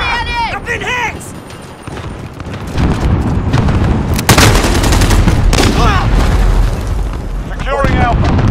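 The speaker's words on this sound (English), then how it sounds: "Taking enemy fire." Heavy gunfire and explosions in Call of Duty: Modern Warfare, loud, near booms and rapid bursts over a steady battle din, with radio chatter and voices talking over the action.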